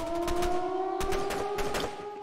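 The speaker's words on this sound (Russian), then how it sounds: "сейчас это орет очень громко сиренка" Loud siren wailing in the Zompiercer zombie train game, steady sustained tones with rising sweeps running throughout, close and dominant over a rumbling background.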